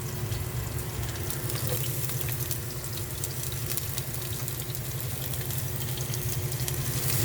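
Garlic sizzles steadily in a hot pan for Filipino igado, a dense, continuous crackle that stays loud and close, with a faint watery trickle and light stirring mixed in.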